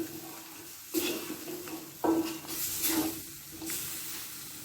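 Vegetables for a vegetable kurma sauté in a pan, a steady close hiss with stirring scrapes and brief louder bursts as the pieces are turned.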